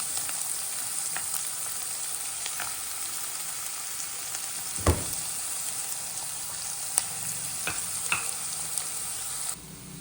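Cumin, green chillies and onion fry for rava dosa in a pan, giving a steady, even sizzle across the whole stretch, with a few clicks and knocks from stirring and one sharper thump midway, with no voices.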